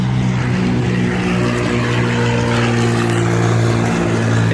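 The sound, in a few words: Cessna 172 light aircraft engine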